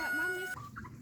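Free-range homestead chickens, fed scratch and chicken feed, cluck in short close bursts with a rising squawk. Faint voices can be heard behind them.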